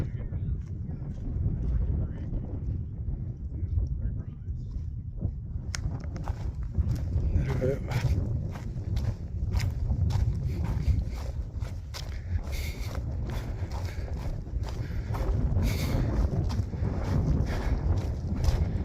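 Wind gusting over a high mountain pass on the Sentinel Pass trek in the Canadian Rockies, a steady rumbling roar buffeting the microphone throughout, with footsteps and faint voices of passing hikers mixed in.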